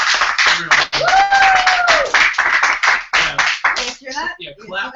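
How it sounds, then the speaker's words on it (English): An audience claps in scattered bursts at a live stream party, the clapping mixed with talking and laughter, ending with a few separate claps under speech. "clap for what everyone rolled their eyes at"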